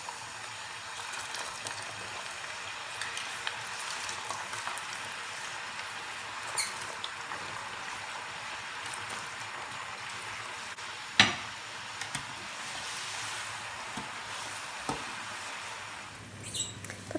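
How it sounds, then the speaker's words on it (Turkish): Potato pieces fry in hot oil in a pan, a steady soft sizzle with fine crackles and a few sharper pops and clicks, continuous and fairly quiet with no speech. "Şimdi kızdırmış olduğum yağın içerisine bırakıyorum patateslerimi ve patateslerimi güzelce kızartıyorum."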